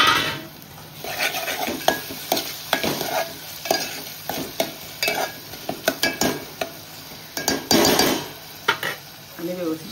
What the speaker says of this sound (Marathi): टोमॅटो टाकूया आता आपण याच्यामध्ये।